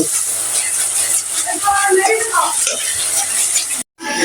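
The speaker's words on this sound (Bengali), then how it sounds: "পাঁচটা কাঁচামরিচ ভালো করে কষিয়ে নেব" Green chillies fry in a pan for a Pangas fish kofta, giving a steady close sizzle and hiss with faint stirring scrapes throughout, ending in a brief cut of silence near the end.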